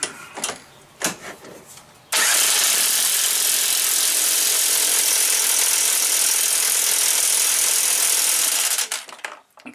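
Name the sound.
power tool tightening strut bolts on Chevy Equinox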